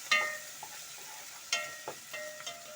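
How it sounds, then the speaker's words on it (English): A utensil stirs capsicums in a hot frying pan, several scraping knocks over a steady low sizzle, close and without talk. "We stir a bit."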